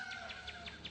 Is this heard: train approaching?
no